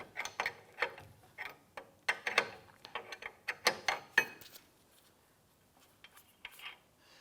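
A wrench works a ball joint nut on a 2005-2007 Ford 500 during a front spring and strut replacement, giving a run of close, irregular metallic clicks and ratcheting ticks that thin out toward the end.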